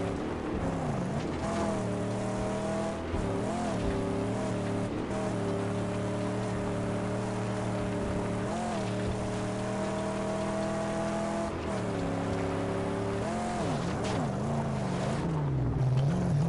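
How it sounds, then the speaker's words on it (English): A car in the Mad Max video game drives under a nitrous boost, its engine droning steadily and close, with the pitch rising and dipping repeatedly as it revs and surges over constant road rumble. "So now we're going to go test out our nitrous."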